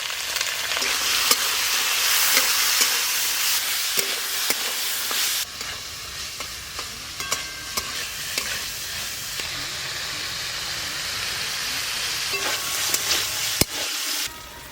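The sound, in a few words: vegetables frying in hot oil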